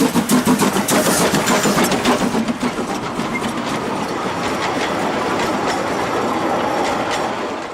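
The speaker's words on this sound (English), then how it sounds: "Time to get on board to travel the next 20 kilometres on this unique little train." A small narrow-gauge train on the Gulbene–Alūksne railway in Latvia rumbles along at close range, steady rolling noise with rhythmic clicking of wheels over rail joints, no voices.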